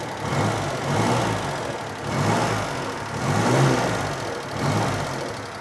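A Daihatsu Hijet 1000 engine runs at speed, near 100 km/h, as a steady loud drone with road and wind rush that swells and eases slightly, with no voices.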